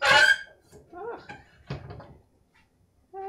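A single loud, harsh squeak rings out as Polish stoneware pottery is handled on a table; quieter handling noises and a voice follow.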